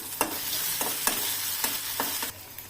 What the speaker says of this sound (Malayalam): അതിന്റെ കൂടെ തന്നെ നമുക്ക് ഈത്തപ്പഴവും ഇട്ട് കൊടുക്കാം. എന്നിട്ട് നല്ല വഴറ്റി കൊടുക്കാം.